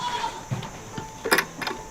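A farm goat bleats in a few short, close wavering calls during morning chores, fairly loud against a quiet outdoor background.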